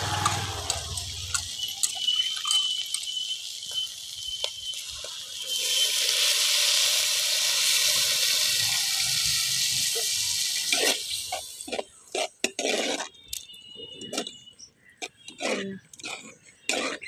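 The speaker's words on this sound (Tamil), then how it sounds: "இதில் வந்து புளிக்கரைசல் ஊற்றிக்கலாம்." Tamarind water pours steadily into a pot of manathakkali puli kuzhambu with a rushing, splashing sound for several seconds, followed by scattered clinks and kitchen noises.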